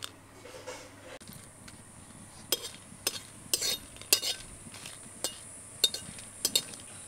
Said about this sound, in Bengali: শুকনো লঙ্কা 4টে দিয়ে আমি শুকনো কড়াইতে ভেজে নেব।